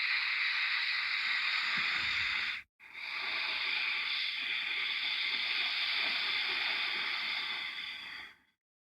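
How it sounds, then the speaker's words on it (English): Ujjayi yoga breathing, a soft steady hiss from a contracted throat on slow inhales and exhales, two long breaths separated by a brief pause, close and quiet with no talking. "begin to apply the same contraction of the throat to the inhales. You should once again hear a soft hissing sound."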